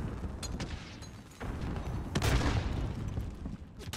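Rapid gunfire and explosive bursts from the Call of Duty: Modern Warfare video game, dense overlapping shots with a heavier blast midway, loud and close with no speech.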